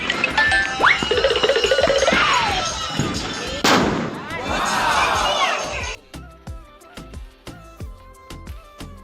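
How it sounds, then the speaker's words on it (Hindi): Firecrackers bursting at an outdoor Diwali celebration: a dense, loud crackle and boom with whistling rockets at first, then a rapid string of sharp separate pops, with crowd voices mixed in. "हम चले गए फटाखा फोड़ने के लिए"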